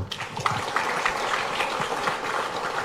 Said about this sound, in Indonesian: Beri aplaus tepuk tangan untuk ayah bunda itu.